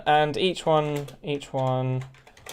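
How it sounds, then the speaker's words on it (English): A computer keyboard is typed on during a live stream, with faint, rapid key clicks running beneath a nearby voice that talks almost continuously. "Sorry about like the typing"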